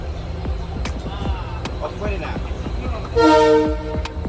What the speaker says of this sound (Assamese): এতিয়া ট্ৰেইন আহিছে